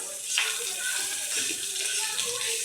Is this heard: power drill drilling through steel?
no